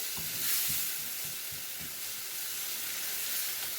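Eggplant caviar with coriander being stirred in a hot pan, a steady, close sizzle and hiss with soft repeated scraping strokes from the spoon, and no talk.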